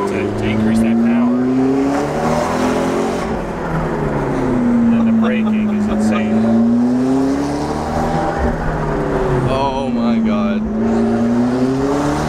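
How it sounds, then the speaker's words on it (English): A supercar's turbocharged engine drones loudly and continuously with rising and falling pitch as it pulls through gears, turbo flutter audible between shifts, while people talk over the engine noise. "you'll hear the flutter of the turbo"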